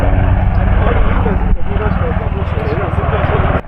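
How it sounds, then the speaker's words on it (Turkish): Loud, steady engine drone with rhythmic rotor chopping from a helicopter passing close overhead in the Uludağ lakes area, continuing almost the whole time before cutting off near the end. "Yine helikopter geliyor lan"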